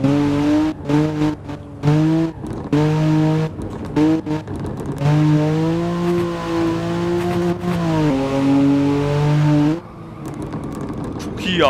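A BMW E93 convertible drifts at night, its engine revving and wailing up and down in loud, sustained pulls, broken by brief lifts and tire squeal as it slides.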